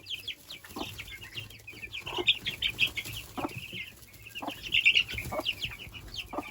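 Araucana chickens and chicks clucking and peeping nearby in a backyard flock, a busy run of short calls and chirps repeating throughout.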